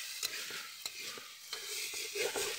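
Oil fries in a pan while homemade herbal oil is prepared, a quiet steady sizzle broken by occasional soft clicks and stirring sounds, close and alone without speech.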